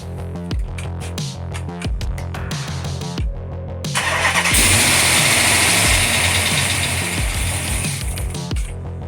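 An untuned Magnum car engine cranks with a rhythmic churning starter for several seconds, then catches and bursts into a loud, rough, raspy roar that holds steady nearby.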